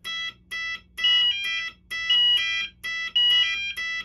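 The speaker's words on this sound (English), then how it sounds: "sets off zone 1, sounding the general alarm" A Cerberus Pyrotronics CP-2ER fire suppression panel sounds its zone 1 general alarm, a loud, rapid electronic pulsing tone repeating in steady bursts with a faint low hum underneath.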